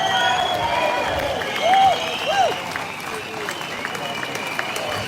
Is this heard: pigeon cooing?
no